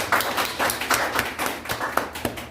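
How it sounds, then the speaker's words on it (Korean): A church congregation claps at a Sunday service appointing officers, an uneven burst of hand claps from a modest group, fairly close and lively with no talk over it. "박수해 주시면 됩니다."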